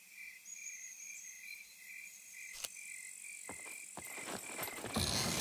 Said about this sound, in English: A lot of crickets over in this area.